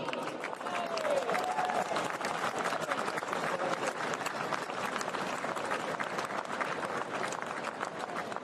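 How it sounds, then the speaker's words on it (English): Sustained applause from the racecourse crowd at Royal Ascot greets the winning Gold Cup trainer, a steady, dense wash of clapping heard from a distance for several seconds with faint crowd murmur mixed in. "Your applause, please, for John Gosden"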